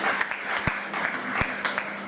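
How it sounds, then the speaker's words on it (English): Audience clapping at a government closing event, a steady wash of many hands with a couple of sharper thumps, continuing for about two seconds. "So I want us to give ourselves a hand clap for that."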